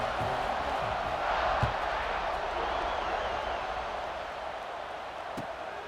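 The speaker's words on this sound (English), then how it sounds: "this crowd is buzzing after that last score" Stadium crowd in the NCAA 26 college football video game, Penn State vs Georgia, buzzing after a score: a steady, dense roar of many voices that swells slightly and then eases off, without distinct cheers standing out.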